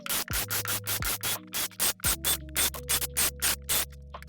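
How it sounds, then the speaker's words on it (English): Drainage holes being drilled one after another into the bottom boards of a large wooden planter box, each pass giving a short, loud grinding burst with a steady drill hum underneath, about a dozen bursts in quick rhythm. "Now that you're done drilling holes into the bottom of your planter to escape water"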